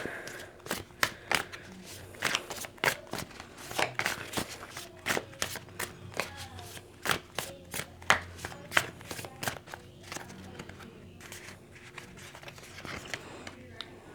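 A deck of tarot cards is shuffled continuously and close up, with fast, sharp riffling slaps repeating in a steady rhythm throughout, a faint room hum underneath and no speech.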